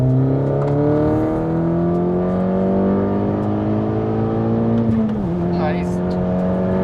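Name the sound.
Audi S3 400 hp car accelerating hard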